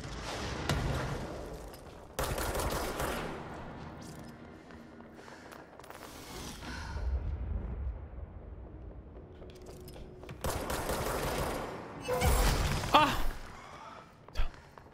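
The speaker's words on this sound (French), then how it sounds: "Ça me tire dessus." Enemy gunfire aimed at the player in the video game Control, heard as several short bursts of shooting separated by quieter stretches, fairly faint overall.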